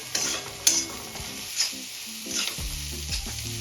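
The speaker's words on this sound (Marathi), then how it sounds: "कोथिंबीर व्यवस्थित मिक्स करून घ्यायची" Chopped coriander gets stirred into egg bhurji in a pan with a spatula, producing a steady frying sizzle and a few scraping strokes and clinks, near and without talk.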